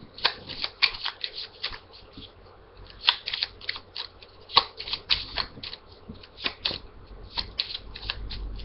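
A deck of playing cards being shuffled by hand during a simple card trick, a close run of crisp riffling and flicking bursts in irregular rhythm, with no talking.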